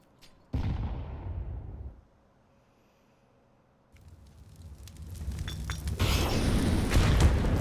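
HE grenade explosions in the video game CS:GO on the Nuke map, a sharp boom followed by a fading rumble, a quiet gap, then rising gunfire and bursts building to a dense, loud close.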